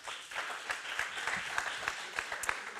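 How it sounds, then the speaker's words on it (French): A small crowd gives brief, steady applause to welcome a finalist at a startup pitch night, with scattered individual claps standing out over a dense patter and faint voices beneath. "Un petit applaudissement."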